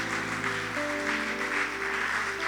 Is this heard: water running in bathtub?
no